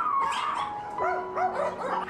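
Dogs kept at a puppy mill whimper, yip and howl in overlapping high-pitched cries, a close, steady chorus of distressed calls with no talking.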